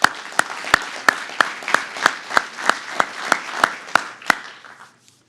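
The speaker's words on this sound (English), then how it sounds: "Let's give her a round of applause." Steady applause from a crowd at an anniversary gala, with a string of sharp, evenly spaced claps standing out on top, fading away after about five seconds.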